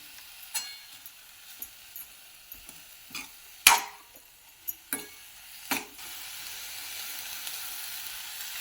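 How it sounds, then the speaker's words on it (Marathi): Sprouted moth beans (matki) frying with masala in a pan give a soft, steady sizzle, broken by sharp clicks of a spoon stirring and scraping, close by with no talking. "हा मसाला मटकी छान परतली की टेस्ट पण छान लागते"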